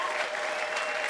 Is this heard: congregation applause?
yes